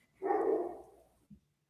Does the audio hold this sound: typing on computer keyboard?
no